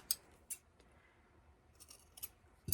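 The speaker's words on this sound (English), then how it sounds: "so I will cut straight across the bottom of it," Scissors snip through a Dollar Tree foam heart in a few crisp, close cuts spaced about half a second apart, with quiet gaps between and no talking.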